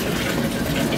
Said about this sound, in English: Pour it all in.